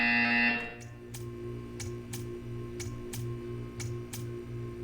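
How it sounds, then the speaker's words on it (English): Buzzer in the video game Portal 2: a brief harsh electronic tone opens, then a low steady hum carries evenly spaced ticking pulses, moderately loud with no speech. "You will hear a buzzer."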